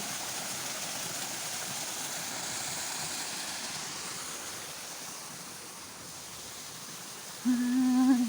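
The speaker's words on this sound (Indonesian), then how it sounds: "itu seperti air terjun ya" Steady broadband rush of water, like a waterfall, heard along a village lane; the roar holds evenly throughout, with a short tonal hum rising over it near the end.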